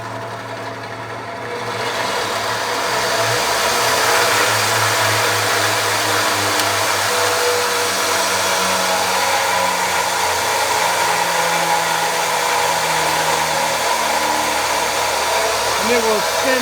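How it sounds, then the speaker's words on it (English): A homemade 2x72 belt grinder's electric motor spins up and runs at variable speed, a steady loud whirring hum with a droning tone that shifts slightly in pitch, no talking over it. "You can turn it on, and then it's got variable speed and fairly decent torque."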